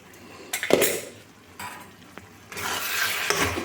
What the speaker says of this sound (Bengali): মাঝে মাঝে ঢাকা দিয়ে মাঝে মাঝে একটু একটু করে নাড়তে হবে না নাড়লে লেগে যাবে